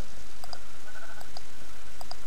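Sheep in Minecraft give several short, faint bleats in a sparse, spaced rhythm over a steady background of game sound.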